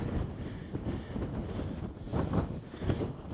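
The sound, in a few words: strong wind on a mountain peak, Silvermines Mountains, Ireland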